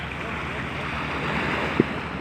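Steady wash of surf and wind, waves rolling continuously onto the shore with a low roar, a small thump near the end.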